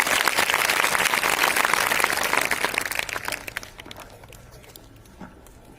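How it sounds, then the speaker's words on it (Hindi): An audience at a college prize-distribution ceremony claps to welcome a guest, dense applause for about three seconds that quickly dwindles into a few scattered claps and near quiet. "एक बार जोरदार तालियों के साथ में आपका स्वागत करें।"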